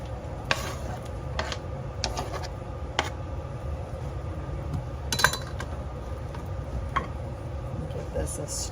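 Green beans and potatoes dropped into a pot of water close to boiling, a few scattered clinks and clatters over a steady bubbling hiss.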